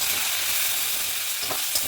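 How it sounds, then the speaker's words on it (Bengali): Grated coconut fries in a pan with garlic, giving a steady, close hiss of sizzling oil throughout, with a couple of faint scrapes from stirring near the end. "ভেজে নেবো ভালো করে।"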